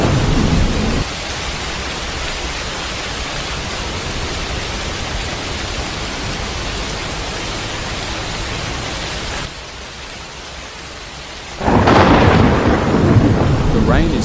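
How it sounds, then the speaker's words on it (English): Heavy rain pours steadily in a loud, dense roar during a thunderstorm, with a brief lull and then a renewed surge of downpour or rolling thunder near the end. "The rain is so heavy, right?"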